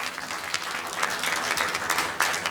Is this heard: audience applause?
yes